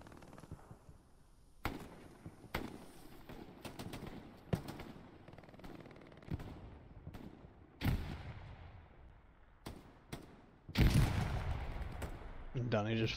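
Gunfire from a hedgerow in the Hell Let Loose World War II shooter, with sharp shots and short bursts cracking at irregular intervals over a low battlefield rumble, a heavier blast near the end, and voices talking in the background.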